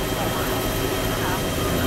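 Helicopter in the ARMA 2 video game, a continuous loud rotor and engine drone with steady low thumping, heard up close over a short stretch.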